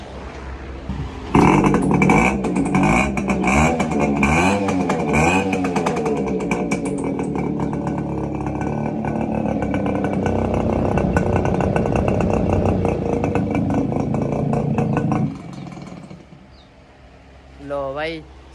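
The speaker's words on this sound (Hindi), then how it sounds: "एक बारी इनू स्टार्ट करके इसकी साउंड चेक कर लें" A Yamaha motorcycle engine, recently repaired, starts and revs loudly and close by for a sound check, holding a steady rough roar with rising rev bursts before cutting off abruptly.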